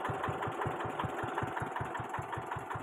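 Small 6 HP engine driving a 22mm broom handle dowel machine, a steady rapid chugging idle with regular low pulses, fairly quiet and running alone.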